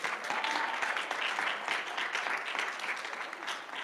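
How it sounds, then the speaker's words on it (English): Audience applause at a student government Senate candidate Q&A, a dense, steady wash of many hands clapping that holds at an even level throughout, with no voices over it. "So I think we should give him a round of applause as well."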